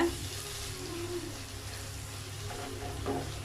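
Mushrooms frying in a pan over a low flame for a restaurant-style gravy, giving a steady, soft, close sizzle with faint watery crackle throughout and no talk.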